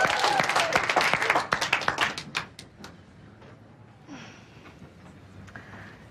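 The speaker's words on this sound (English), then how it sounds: "Okay, good work, class. Give yourselves a clap." A small exercise class claps for itself after a workout, a brisk burst of separate hand claps that thins out and stops after about two seconds, leaving quiet room tone and faint movement.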